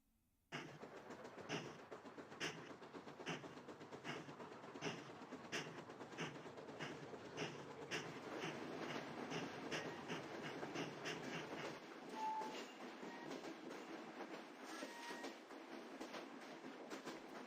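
Train running on rails in the video game Touhou LostWord, a steady rolling rumble with faint rhythmic clicks that holds for the whole stretch, no voices over it.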